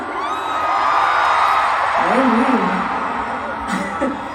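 A concert crowd at a tribute show cheers and whoops, a loud sustained roar with individual high yells rising above it.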